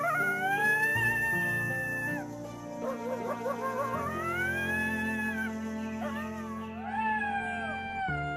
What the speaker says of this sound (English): Coyotes constantly adjust their howl volumes to sound like a massive, terrifying pack.